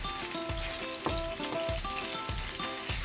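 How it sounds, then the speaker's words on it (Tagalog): Onions fry in half a cup of oil for Filipino beefsteak, bistek Tagalog, a steady close crackling sizzle with irregular pops throughout. "Lutuin muna ang sibuyas."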